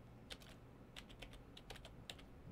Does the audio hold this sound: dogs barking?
no